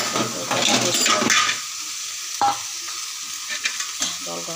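A jackfruit and prawn curry is stirred in a frying pan, a loud scraping and sizzling for the first second and a half, then quieter hissing with a few separate clinks and scrapes.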